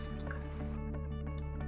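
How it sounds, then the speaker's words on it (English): Cooking water left from soaking lentils is poured into a pot of soaked rice, a brief close splashing pour that gives way to a few light drips over a steady hum. "Just add enough water to cook your rice through, and the dal also"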